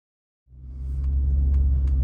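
A car engine starts up and settles into a steady, close low rumble that swells slightly as the car begins to move, with no talking.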